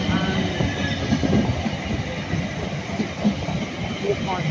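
A passenger train runs through Clapham Junction station, a steady close rumble of rolling wheels with faint rhythmic clatter and a light squeal, while a voice speaks over it.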